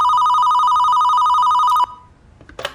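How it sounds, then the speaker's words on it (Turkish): An old-style telephone bell rings loudly in rapid repeated bursts in the horror game The Experiment: 911, then cuts off abruptly, leaving a brief faint clatter. "Telefon çalıyor."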